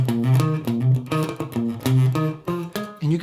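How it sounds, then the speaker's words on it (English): Rhythm guitar plays a song riff with palm-muted notes, giving choppy, clipped plucks in a steady funky pattern at moderate volume, alone and without talking. "you can make it sound really cool with the muted notes."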